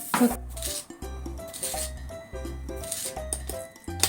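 Utensils mixing miso and sugar seasonings in a bowl, giving close intermittent clinks and scrapes over a steady low hum.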